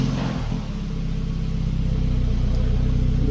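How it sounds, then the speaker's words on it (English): A BMW F31 328i with the N26 engine and stock exhaust fitted with its resonator starts up, giving a brief rise in revs that settles into a steady, loud, close idle rumble. "This is my car, how it sounds up on startup."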